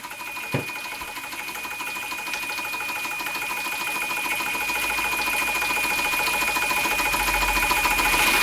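A Jensen Model 65 model steam engine runs under steam with a fast, steady mechanical chatter and whine, fairly quiet and close, alone throughout with a faint low rumble building toward the end.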